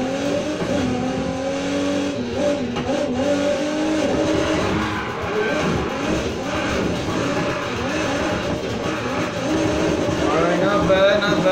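A 2019 Aston Martin DB11 Volante in Need for Speed Heat drifts, with loud, sustained engine roar and wavering tire squeal throughout, while a person talks over it.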